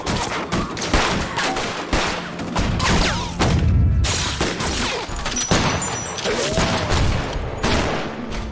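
Rapid gunfire from a police shootout with suspects in a TV drama, a dense barrage of overlapping shots with heavy booms, loud and continuous throughout, with a faint voice briefly under it.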